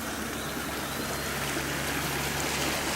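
Hay Creek runs beneath a bridge at a nature center during a drought, a steady close wash of flowing water with no voices over it.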